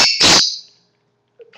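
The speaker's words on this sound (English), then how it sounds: "Sorry about the bird." A bird calls with a loud, bright chirping burst in a quiet indoor room, followed by a short faint chirp after a pause.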